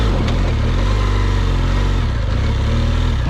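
An adventure motorcycle on Michelin Anakee Adventure tyres grinds off-road over big rocks, its engine a loud, constant, close drone that fills the whole stretch with steady rumble and clatter.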